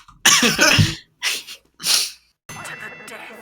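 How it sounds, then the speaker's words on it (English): A person coughs hard in a few harsh, explosive bursts separated by short gaps, close and loud, followed by a rougher breathy sound. "You're like dying from coughing because this is too much."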